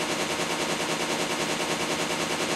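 A DP-28 machine gun in Call of Duty: World at War fires in a steady, sustained burst of rapid shots, loud and close, with no talking over it.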